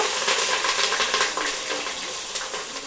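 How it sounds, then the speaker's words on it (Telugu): Whole spices sizzling in hot oil in a pan while kichidi is being cooked, a steady loud crackle with faint occasional clinks of the pan. "ఇవి వేగుతూ ఉన్నాయండి"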